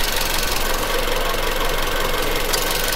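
A Toyota Corolla GLI engine runs with a misfire, a loud, steady idle with a rough, knocking beat heard up close and alone.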